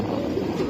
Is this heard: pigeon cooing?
yes